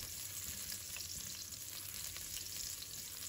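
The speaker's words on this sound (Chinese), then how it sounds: "然后加入蒜末，把它炒出香味。" Minced garlic frying in hot oil in a wok, giving a steady, close, even sizzle with faint stirring ticks throughout and no voices.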